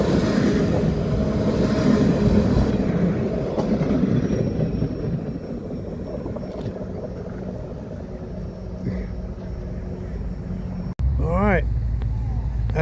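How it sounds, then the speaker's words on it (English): Big train passing near an Appalachian Trail hiking spot, a loud low rumble filling most of the stretch and fading toward the end, followed by a voice speaking. "Oh, that was a big train."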